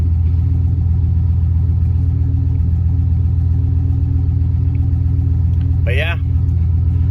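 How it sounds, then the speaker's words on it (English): A 1996 Chevy Silverado with a 5.7 engine idling on a cold start after an idle air control valve replacement, a loud steady rumble that runs throughout, with a brief chirp near the end. "A cold start of the day though."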